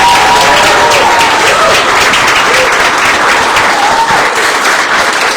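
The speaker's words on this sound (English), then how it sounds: "give them one more big round of applause" Loud, dense applause from a crowd at a promotional event, a continuous wash of many hands clapping close by that holds steady throughout, with faint voices mingled in.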